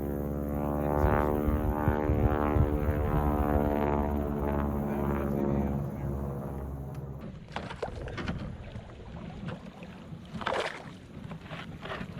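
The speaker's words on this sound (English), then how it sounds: "That's an old Harvard." An old Harvard propeller plane passes overhead, its loud, droning engine sustained for several seconds before fading out, then leaving quieter outdoor noise on the water.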